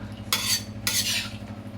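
Chicken biryani rice stirred in a pot, two quick scraping strokes of a spoon against the pot, close and clear, with no talk over them.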